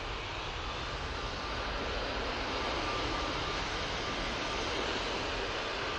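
A KLM airliner in Dutch Pride livery rolls for takeoff at Manchester Airport, a broad, steady jet engine roar at moderate distance that holds constant throughout.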